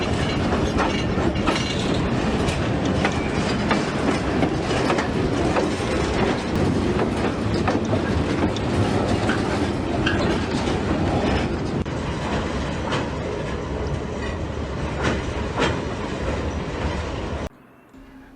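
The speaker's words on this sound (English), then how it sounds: "Now the train's heading back to Beverly." A steam train rumbles steadily past on the rails, with continuous clattering wheels and metallic clicks, loud and close throughout, cutting off abruptly near the end.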